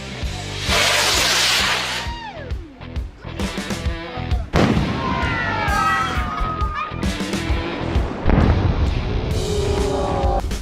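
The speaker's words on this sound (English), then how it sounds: "Check out these 1 in a million moments when fireworks are struck by lightning." Fireworks bursting after being struck by lightning, a loud, dense barrage of booming blasts, crackles and whistling trails that carries on continuously from start to finish.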